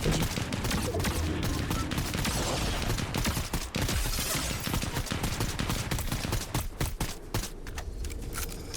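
Rapid gunfire and shotgun blasts in a Fortnite match, dense bursts of shots layered over continuous game noise and effects, loud and close throughout with no clear talk.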